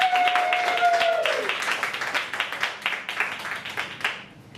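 Dense, sustained applause from a comedy show audience greets a comedian, with a brief whistle or cheer near the start. The clapping thins and fades toward the end.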